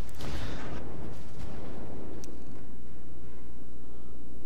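Deep booming blasts from heavy naval cannon fire in World of Warships, one strong boom near the start and fainter thuds after, with a sustained low rumble underneath.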